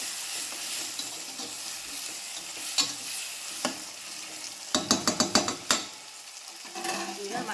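Onion, green chili and tomato fry in a pan with a continuous sizzle, punctuated by a quick run of sharp spatula clacks and scrapes against the pan.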